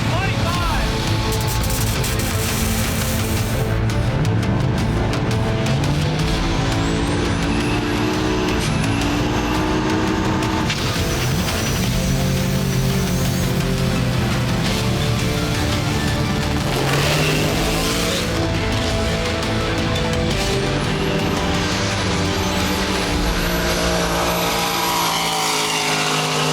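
A Mustang drag race car makes a loud, close full-throttle run on a drag strip, the engine screaming and rising in pitch through gear changes amid crowd and ambient noise.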